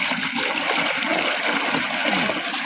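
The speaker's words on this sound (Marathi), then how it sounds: "चांगलं पाणी मारते राव मोटर." Water gushing from a motor-driven farm pump, a steady loud rushing splash that runs without a break, close by, no talking.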